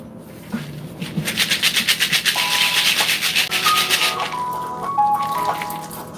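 Fruit pulp ground with pebbles, a loud close rhythmic scraping and rubbing that pulses steadily, with faint tonal squeaks running through it.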